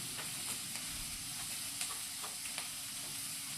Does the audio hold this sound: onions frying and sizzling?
yes